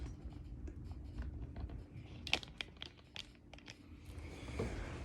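Masking tape pulled and pressed onto a guitar neck, faint crinkling and tearing scratches with a few sharper clicks mid-way, low room hum underneath.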